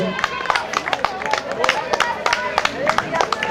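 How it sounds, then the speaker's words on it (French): Spectators at a youth discovery triathlon in Saint-Nazaire clap as the first competitors leave the swim, scattered outdoor applause under crowd babble and a commentator's voice. "J'entends les applaudissements"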